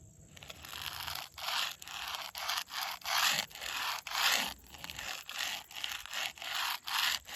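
A gravestone in an old Baptist church cemetery being scraped by hand, producing repeated rhythmic rasping strokes, fairly close and steady, with no talking.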